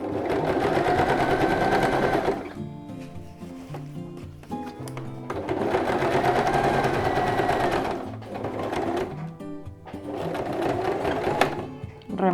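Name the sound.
sewing machine stitching a reversible placemat pocket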